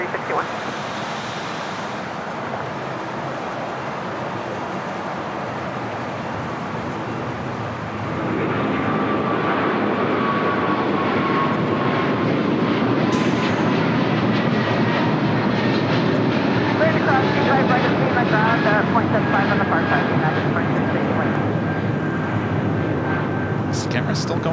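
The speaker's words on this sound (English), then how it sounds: "777 now rolling down at 25 right" Boeing 777 jet rolling down runway 25 right at LAX, a broad steady roar that swells louder partway through and holds, heard from a distance.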